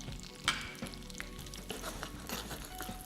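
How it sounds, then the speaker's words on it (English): Raw beans sizzling and frying in a mix of oil and butter, a steady crackling hiss with a sharp spatter near the start and faint stirring scrapes throughout. "And I'll cook them in oil and butter mixture."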